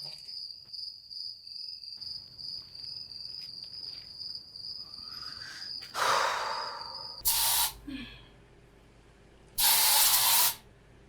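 An aerosol spray can fires in two sharp hissing bursts, one short and one longer, over a steady chirping of crickets, with a faint breathy gasp in between.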